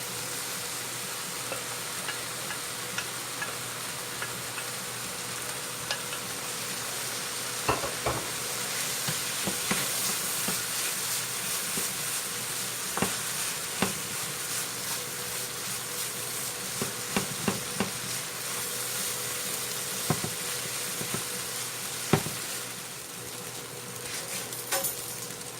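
Cooked quinoa sizzles in a pan with cinnamon and thyme as it is stirred, giving a continuous gentle frying hiss broken by scattered scraping clicks from the utensil.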